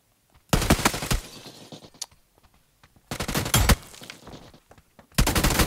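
Gunfire in the mobile battle royale game PUBG New State: three loud automatic bursts of rapid shots, separated by short quiet gaps, close up with no talking.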